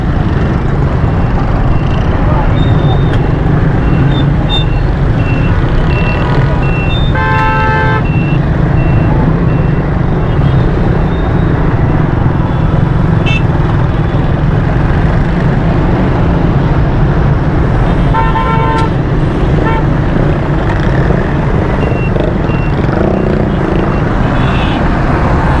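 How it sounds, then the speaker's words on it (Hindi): Jammed road traffic in Karachi after a tanker accident, with a constant loud roar of trucks and engines, a couple of brief horn or beep bursts rising over the din, and a voice talking over the traffic. "रास्ता बिल्कुल नहीं है, जाम हुआ हुआ है, हर ट्रैफिक बिल्कुल तितर बितर हुआ है।"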